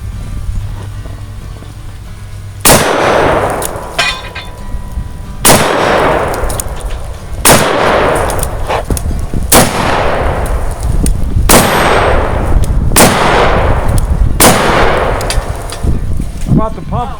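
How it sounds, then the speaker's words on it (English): Pistol shots ring out at an outdoor shooting range, about eight loud, evenly spaced reports, each followed by the clang of steel targets and a long echoing tail, with faint voices in between. "Let's shoot some steel."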